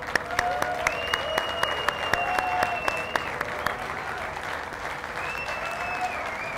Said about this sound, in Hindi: आपकी बहुत सारी तालियों में